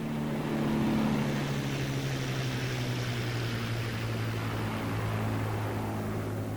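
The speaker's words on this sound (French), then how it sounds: "c'est un Merlin. Un bruit de Spitfire." The Rolls-Royce Merlin engine of a Spitfire aircraft gives a steady, heavy droning roar that holds constant for several seconds with no voices over it.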